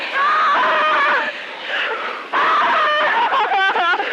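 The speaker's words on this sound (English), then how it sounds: "Why the hell are you screaming?" A person screams in shrill, wavering bursts, loud and close, with a short lull partway through before the screaming resumes, higher and more strained.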